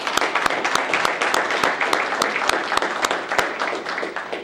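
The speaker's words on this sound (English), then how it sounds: "so I'd like to give them another round of applause" A crowd at the Evanston Inventure event applauds steadily throughout, dense clapping with sharp individual claps standing out, fairly loud and close, with no talking.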